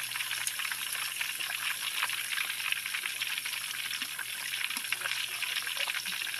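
Hot oil draining and sizzling softly from freshly fried food, a faint steady crackle and trickle close by, with no talking.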